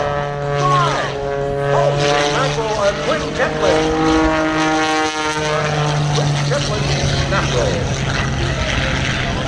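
An aerobatic plane flown by Skip Stewart dives at the Vero Beach air show, its propeller engine droning steadily with shifting pitch throughout, loud and continuous, while an announcer talks over it.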